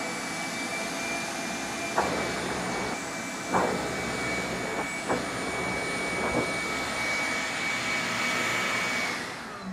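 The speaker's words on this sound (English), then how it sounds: "And that's where your shop vac comes in." Shop vac sucking leftover moisture and carpet-cleaning solution out of a stained carpet, a loud, steady motor roar with a high whine throughout and a few brief surges as the nozzle shifts.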